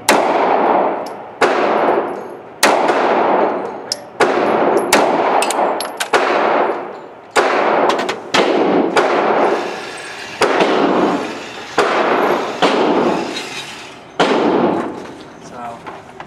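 Gunshots fired one after another at targets during a pistol torture test, about a dozen loud sharp reports with ringing decay and metallic clangs from hit targets, spaced irregularly, sometimes in quick pairs.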